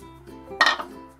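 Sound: washed lentils being put into a pressure cooker

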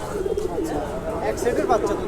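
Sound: pigeons cooing

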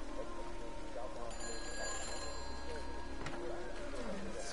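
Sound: telephone ringing in video game Everybody's Gone to the Rapture

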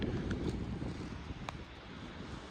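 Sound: wind

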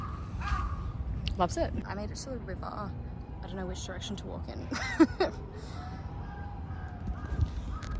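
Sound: crow cawing by a river in Tokyo

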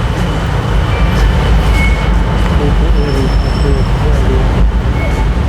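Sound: BTS skytrain ride

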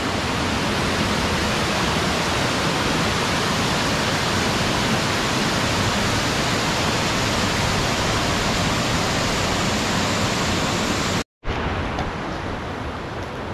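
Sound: waterfall, Cachoeira do Salto

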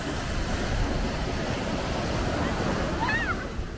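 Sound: ocean waves on the beach at Coney Island

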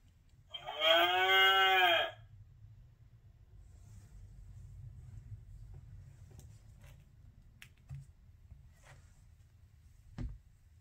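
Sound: cow mooing, sound book button

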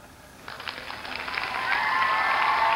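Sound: crowd cheering at a speech

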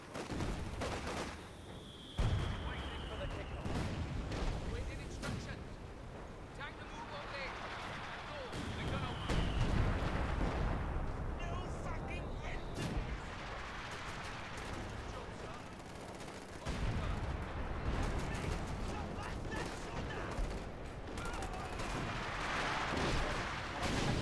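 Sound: artillery barrage firing in video game Company of Heroes 2

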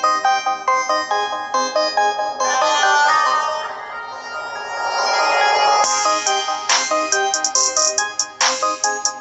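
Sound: music played through the Fire-Boltt Rise smartwatch speaker

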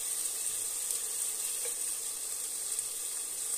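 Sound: ginger and onion sautéing in pan

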